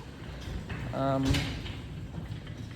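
Worn door rollers give a brief creaking, grinding scrape around the one-second mark as a door slides open, mid-volume and close, over a low background murmur.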